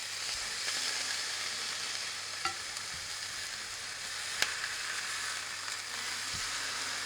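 Lemon sole fillets sizzle steadily in a hot pan just after being turned, a constant close frying hiss with a few faint clicks and taps of utensils.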